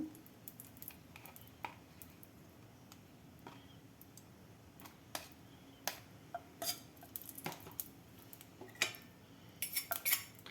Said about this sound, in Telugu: ఇప్పుడు దీన్ని కొంచెం దోరగా వేయించుకుందాం నెయ్యి వేసుకుని